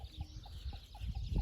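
A hen clucks in short repeated calls, about six soft bursts spaced evenly over a second and a half, close by against a low farmyard rumble.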